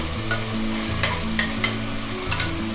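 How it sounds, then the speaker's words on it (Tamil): Ginger garlic paste sizzles in a pan over medium heat for mutton keema rice, with a steady close fry and a few clinks as it is stirred. "இஞ்சி பூஞ்சு விழுதை சேர்த்துட்டு நம்ம நல்லா வதக்கி விட்டுக்கலாம்."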